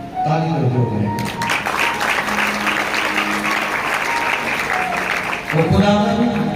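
An audience at a church gathering breaks into steady applause for several seconds, with voices speaking just before and just after the clapping.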